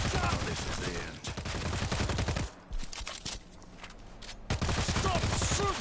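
Dense bursts of gunfire from the zombie shooter World War Z, loud and rapid for over two seconds, breaking off into a quieter, muffled stretch before heavy firing resumes near the end.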